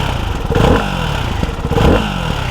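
A 2024 Ducati Hypermotard 698 Mono supermoto's single-cylinder engine revs hard in two sharp bursts over a steady, loud idle, close by with no talking.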